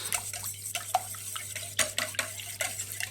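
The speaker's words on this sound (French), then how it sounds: "Et maintenant, vous mélangez le tout." Quiche custard filling with salt and pepper being stirred in a bowl, soft wet sloshing and light scraping strokes in an irregular rhythm, close and fairly quiet with a low steady hum beneath.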